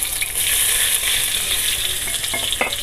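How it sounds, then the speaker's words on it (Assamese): Whole cumin, asafoetida, chopped garlic and a dried chili frying in oil at the start of an okra dish, a loud, steady sizzle with light stirring scrapes toward the end and no speech. "আৰু এতিয়া এইখিনি অকণমান সময় মই ভাজি ল'ম।"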